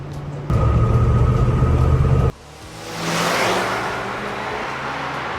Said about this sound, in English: you can still tell it's a V8.